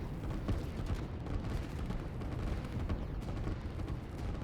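Artillery fire in the strategy game Line War rumbles as a steady, dense mass of distant booms with no clear gaps, low and moderately loud.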